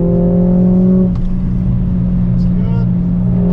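A Mercedes car on a race track pulls hard with a loud, close engine drone whose pitch climbs and then drops at a shift, continuing as a steady roar.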